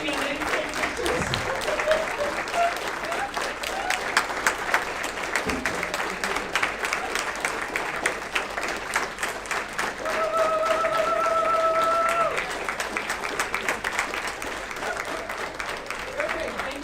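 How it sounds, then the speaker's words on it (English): Sustained audience applause fills a conference hall at a national assembly in Brno, steady dense clapping throughout with scattered voices and a brief whistle-like tone partway through. "Yes, please keep clapping."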